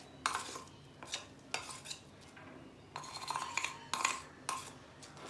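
Ground moong dal batter mixed in a bowl, a soft faint scraping and clinking of a utensil against the bowl in repeated strokes, with no talking.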